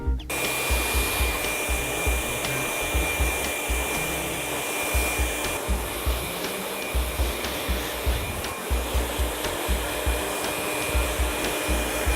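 A hair dryer blows continuously at close range while hair is dried before straightening, a loud, steady airy roar with faint rustling pulses as the airflow moves through the hair.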